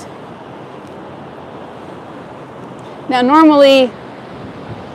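Wind and small whitecapped ocean waves wash along a beach in a low, steady murmur, and someone speaks briefly near the end over the surf.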